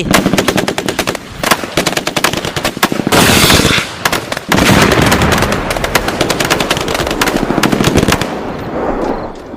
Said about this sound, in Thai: เสียงปืน M16 คำรามอย่างทีเย็บ ผสมประสานกับเสียงจรวดแมกนิโตดังสะเทือนเลือนลั่น